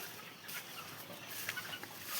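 Chickens on a large poultry farm built for about ten thousand birds, with soft, scattered clucks over a steady, hushed barn ambience, no voices.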